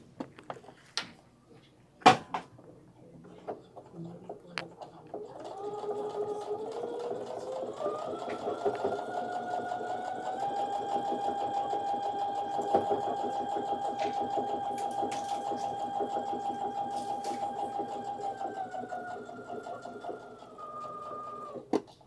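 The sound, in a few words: sewing machine sewing a straight stitch, quarter-inch seam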